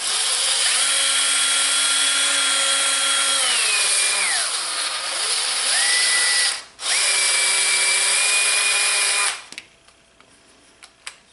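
A power drill runs loudly and close for about nine seconds in a woodworking shop, its motor pitch rising and falling as it speeds up and slows under load, then stops, followed by faint clicks.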